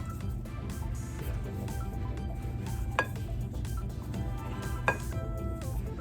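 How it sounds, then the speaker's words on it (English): Dry ingredients, including baking soda and salt, being stirred in a bowl for mini lemon blueberry loaves: a continuous soft scraping and rustling over a low hum, broken by two brief clinks of utensil against bowl. "So we're just gonna mix all of this up."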